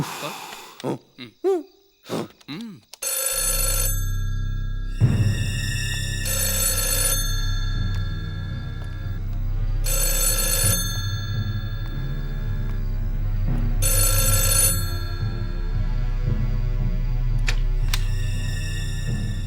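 A telephone rings in repeated bursts with short gaps, over a steady low hum, after a few brief hooting tones at the start.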